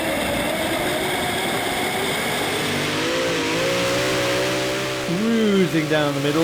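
A modified pulling tractor with five aluminium Chevy engines and five high-helix blowers roars loudly and continuously through a full pull at a tractor-pulling event, its pitch rising and wavering while a commentator talks over it.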